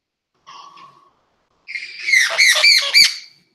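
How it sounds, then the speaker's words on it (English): A pet bird squawks indoors, one brief harsh call followed by a louder burst of several raspy squawks, close and clear with no talk over it. "That was my bird."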